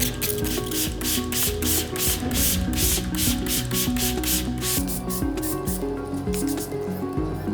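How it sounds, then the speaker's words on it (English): Rapid, repeated spritzes from a spray bottle misting water onto hair, over a dozen quick bursts in steady rhythm, with music playing underneath. "I'm just going to spray my water all over my hair."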